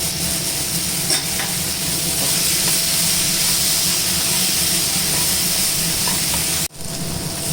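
Chopped chayote with salt and coconut sautés in a pan for chutney, giving a loud, steady, close sizzle with light stirring scrapes. It drops out briefly near the end, with no talk.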